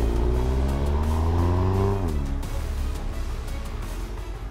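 A car engine revs hard, pitch climbing steadily before shifting down and settling into a rougher, lower roar as it pulls away.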